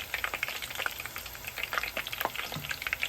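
Okra frying in hot oil, a steady busy sizzle with crackling pops and light stirring noises, moderately close and alone without talk.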